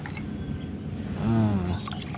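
Excess water poured out of a plastic mineral water bottle holding rice, a short close gurgling pour with a glugging swell in the middle before settling back to a faint trickle.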